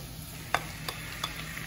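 Zucchini ribbons dropped into a pan of softened, fragrant onions, giving a faint steady sizzle with a few brief stirring scrapes and clatters near the pan, no voices.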